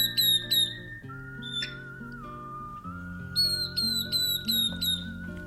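Sharp, high whistled notes from a northern beardless tyrannulet (Camptostoma imberbe) come in quick descending runs over a sustained musical backing, clear and fairly close, with a busier burst of calls near the end.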